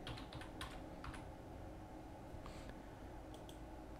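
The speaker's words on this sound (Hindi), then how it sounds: "मैं यहाँ पे क्लिक करता हूँ" Rapid, crisp computer mouse clicks while working in Canva, a quick cluster of sharp clicks near the start then a few sparse clicks, faint and close over low background hum.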